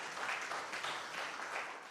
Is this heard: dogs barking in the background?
no